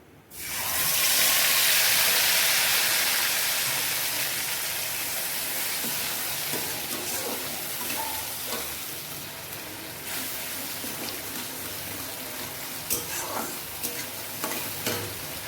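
Spice paste of ginger, green chilli, cumin and coriander hits hot oil seasoned with black cumin, bursting into a loud, steady sizzle that gradually settles into a continuous frying hiss with occasional crackles and stirring.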